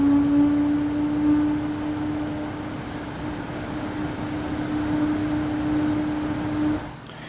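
A Be quiet Dark Rock 5 CPU cooler fan spinning at full 100% speed gives a steady, even whoosh of airflow with a faint constant hum underneath, unchanging throughout.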